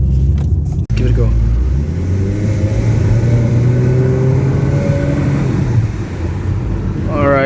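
A Honda Civic FC with a 1.8 engine and HKS exhaust revs up with a rising, fairly mild drone, loud and close, while someone talks over it.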